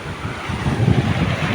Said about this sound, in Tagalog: Ang lakas-lakas ng alon guys.